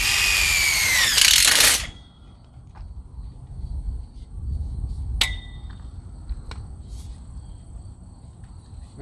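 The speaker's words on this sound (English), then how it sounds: "drive your next screw" A power drill driving a screw into a greenhouse frame while poly sheeting is stretched over it, with a loud high whirring burst that cuts off sharply, then quiet tapping and faint clicks.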